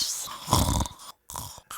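A voice imitates a woman snoring, giving two nasal, breathy snore-like pulses close to the mic with a brief silence between them.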